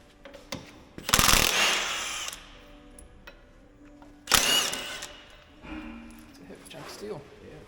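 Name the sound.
tools removing the flywheel housing from a John Deere engine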